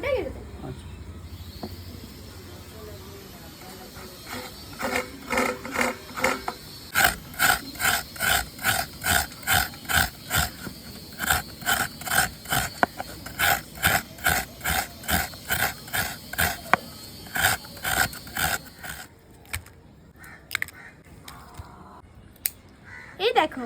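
A coconut is grated by hand with a steady run of rhythmic scraping strokes, dozens in a row at close range, with voices talking before and after the grating.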